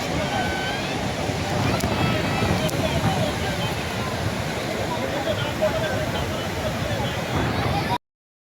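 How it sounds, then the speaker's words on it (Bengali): Speed boats running at sea off the Digha Mohona coast make a steady, loud rush of engine and water noise, mixed with wind and surf across the whole stretch. "আর স্পিড বোটগুলো বাপরে কত স্পিড করে আসছে।"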